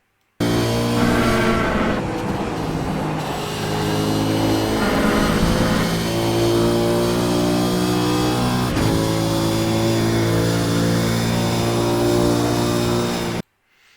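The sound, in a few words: race car engine accelerating down the long straight at Road America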